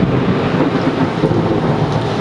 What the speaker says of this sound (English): It's really raining outside.